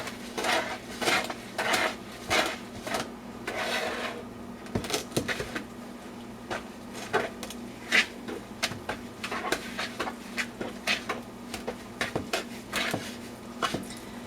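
Super chunky cookie dough being worked by hand in a mixing bowl, with irregular clattering knocks, scrapes and thumps against the bowl coming in close bursts and short pauses, with no talking.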